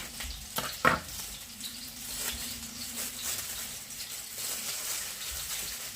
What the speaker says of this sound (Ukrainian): Поки ці підсмажуються, ця прохолоне і ми наріжемо і подаємо.